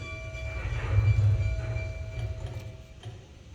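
The Pittsburgh Day Express train, held at East Conemaugh, gives a low rolling rumble with steady horn-like tones above it, swelling briefly and then easing to a continuous mid-distance drone.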